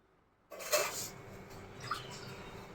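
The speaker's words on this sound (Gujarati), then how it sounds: "વાસણ તો ઉટકવા જ પડશે" Dishes, pots and pans being washed at home, with a clatter of metal utensils followed by quiet splashing and rinsing, fairly faint and close with no voices.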